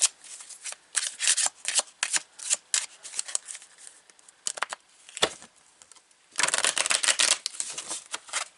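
Tarot cards being shuffled by hand, a run of crisp papery riffles and slaps in uneven bursts, close and fairly loud, ending in a longer, denser flurry with no talking.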